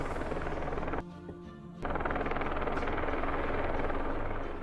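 Helicopter rotor and engine noise plays steadily throughout, loud and continuous, dropping out briefly for under a second before resuming as part of a board game's sound effects.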